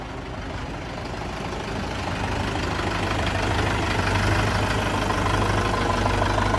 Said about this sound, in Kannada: ಆದರೆ ಸೌಂಡು ಕೂಡ ಕಡಿಮೆ ಇದೆ ಈ ಗಾಡಿದು